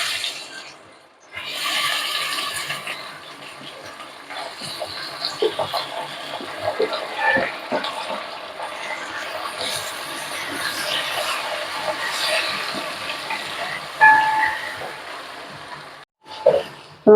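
Sliced ripe plantains drop into hot ghee and fry with a steady broad sizzle and hiss, holding continuous and fairly close with a few brief clatters, no talk, while cooking for Kerala banana pradhaman.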